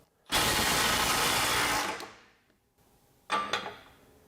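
A Snap-On CT-9010 mid-torque cordless impact wrench works to loosen torqued nuts, a loud, close, continuous hammering burst for about one and a half seconds that trails off, then a brief second rattling burst.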